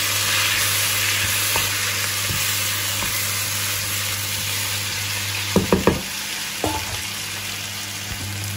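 Vegetables for Moroccan zaalouk sizzle steadily in a hot pan, a constant close hiss and fry, with a few clinks and scrapes of stirring near the end.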